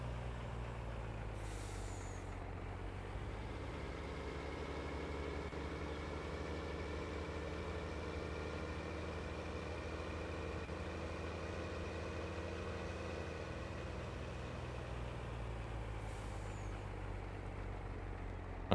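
Truck engine idling with a low steady rumble in Farming Simulator 19, heard alone and constant, with short hissing bursts of air brakes near the start and again near the end.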